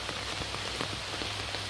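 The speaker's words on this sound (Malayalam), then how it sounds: "നല്ല മഴ." Heavy rain falls steadily on a rainy morning in Kerala, a dense, constant hiss with scattered close drops striking a surface, and no one speaks.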